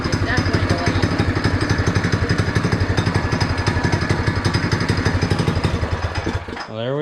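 A Chinese ATV with a swapped-in Predator 212 engine revs hard and steadily, its close, loud, rapid firing pulses chugging evenly for several seconds before the throttle drops and the engine falls back toward idle.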